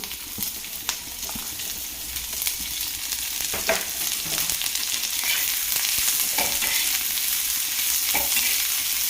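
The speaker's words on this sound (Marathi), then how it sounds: "आपला तवा एक चांगला गरम झालेला आहे तर त्याच्यामध्ये कांदा टाकून घेते आता थोडासा कांदा परतून घेऊ" Onion sautés on a well-heated pan, giving a steady sizzling hiss with occasional sharp crackles and scraping stir strokes, close and continuous throughout with no talking.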